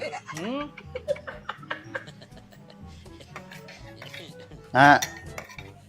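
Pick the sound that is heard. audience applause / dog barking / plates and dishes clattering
plates and dishes clattering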